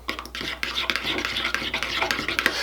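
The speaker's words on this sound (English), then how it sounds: "we're just gonna mix this together until it's completely mixed" Heinz ketchup, Thousand Island dressing and barbecue sauce being stirred together in a bowl for an appetizer dip, giving a steady run of soft, wet scraping and clinking strokes, close and moderately loud, with no talking.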